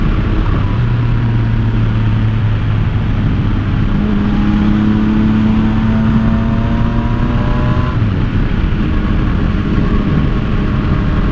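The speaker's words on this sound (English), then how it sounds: "we're just out taking a little Cadillac ride here around the hood" Cadillac driving around a neighborhood, its engine a steady continuous drone with shifting tones as it changes speed, heard from inside the car and fairly loud, with no talk.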